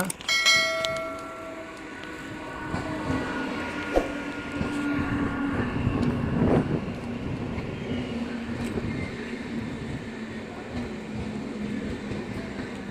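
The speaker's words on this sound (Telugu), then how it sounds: "సో ఈ ట్రైన్ నైన్ ట్వెల్వ్ అయితే వచ్చింది నగిరి రైల్వే స్టేషన్కి" The Kakinada Town Express arrives at Nagiri railway station, a low rumble of rolling wheels and carriages with bell-like metallic ringing at the start and scattered clanks, moderately distant, with no talk.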